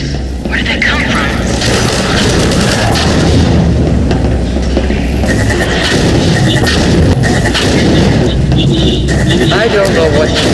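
Combine soldiers fire guns amid booming explosions in the Half-Life 2 video game, a dense, loud, continuous battle din with cracks and rumbles layered over game dialogue.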